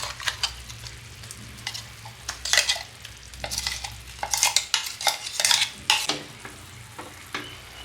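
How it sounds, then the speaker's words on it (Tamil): Ginger paste being stirred into thickened one-string sugar syrup for homemade ginger candy, with scraping spoon strokes against the pan and bubbling sizzle in uneven bursts, close and alone. "இப்போ நம்ம அரைச்சி வச்ச இஞ்சி பேஸ்ட்டை போட்டுக்கலாங்க."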